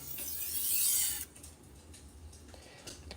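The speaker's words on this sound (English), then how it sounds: "here we're doing some stropping motions. Trying to deburr the blade." Blade being stropped to remove the burr during knife sharpening, a quiet rasping rub that swells and then fades into faint scraping strokes.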